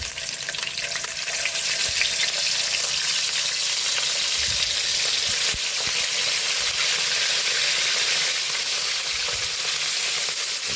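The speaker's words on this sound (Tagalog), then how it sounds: "Magpiprito na po tayo ng isda para sa ating sarsyadong isda." Fish sizzles in hot oil in a pan, a steady loud crackling hiss with small pops throughout, no voices over it.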